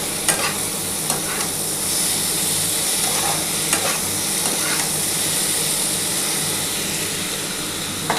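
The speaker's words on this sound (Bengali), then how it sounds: "চিনিটার সাথেও একটুখানি ভালো করে ভাজা ভাজা করে নিই বন্ধুরা।" Sugar frying in a pan while cooking a morola fish curry gives a constant close hiss and sizzle, with occasional light stirring clicks on top and no voices.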